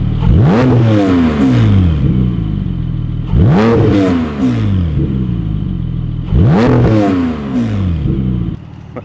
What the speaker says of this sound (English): We'll open the valves. Now it's pretty much straight through from the OPF.